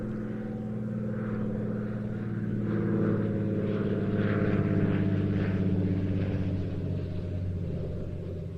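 A STOL light aircraft, built in 1960 and formerly with the British Army Air Corps, flying at the Old Buckenham airshow, its steady propeller engine drone holding loud and constant, swelling slightly midway as it passes.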